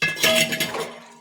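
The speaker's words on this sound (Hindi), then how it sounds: "बर्तन धुलेंगे अभी।" Metal dishes, pots and cutlery clatter and clink together as utensils are washed outdoors in the morning, a short close burst of ringing knocks that fades out.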